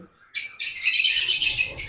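Lovebirds call loudly together in a dense, continuous burst of high, shrill chirping, close by.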